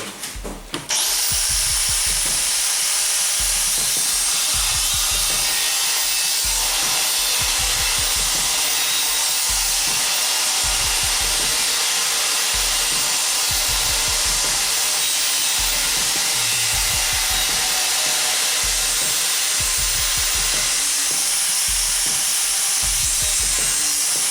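A Procraft PW1100 angle grinder, running without its guard, whines continuously at a high pitch, the pitch dipping in repeated rhythmic bursts as it cuts through material, loud and close.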